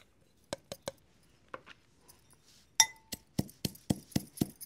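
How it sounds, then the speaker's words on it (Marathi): Roasted spices pounded in a stone mortar and pestle for a village-style mushroom curry, sharp clinking knocks spaced apart at first, then a quicker steady run of strikes, close and clear, with no talking. "भाजलेले मसाले आहेत, आपण आता ते खलबत्त्यामध्ये कुटून घेऊ"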